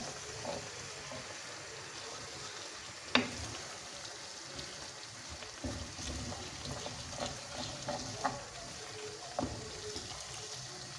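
Butter melts and fries in a pan for muhlama, a soft low sizzle with occasional light clinks and taps of a utensil, close but faint.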